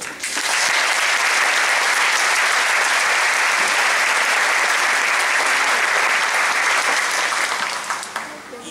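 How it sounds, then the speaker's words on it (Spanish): Loud, sustained applause from a concert audience at an international guitar festival in Cartagena, a dense wall of clapping that holds steady for several seconds before tapering slightly at the end. "Quiero que le dé un fuerte aplauso."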